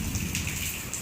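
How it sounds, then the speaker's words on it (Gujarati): A heavy morning downpour hits Rajkot during a storm, a steady, close hiss of rain drumming on surfaces without any voices. "જો કેવો વરસાદ છે"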